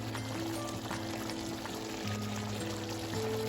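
Water pours into a cooking pot of Dominican-style chicken feet stew, a steady faint splashing under a constant hum from the kitchen, with no talk.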